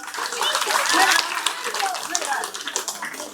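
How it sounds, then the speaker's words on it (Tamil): Audience at a government school annual day clapping for a scholarship student, a sustained patter of many hands under ongoing talk and crowd noise. "கைதட்டுங்க எல்லாரும்."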